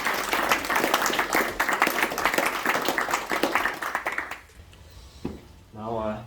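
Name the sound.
audience applause for the participants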